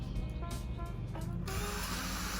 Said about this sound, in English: I got the Dremel bit switched